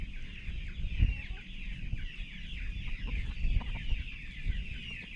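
A flock of meat chickens with a rooster clucks continuously, close by, with a constant hum of other birds and low background noise.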